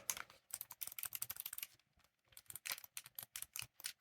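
Rapid clicky presses on the buttons of a Razer Kishi V2 mobile game controller, close and crisp, in quick irregular bursts with brief pauses between them.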